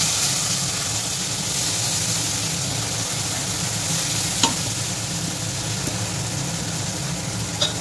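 Dry spice powders (turmeric, chilli, Kashmiri chilli, coriander-cumin) are sautéed in oil for an Echorer kofta curry, making a steady, dense sizzle with occasional light stirring clicks.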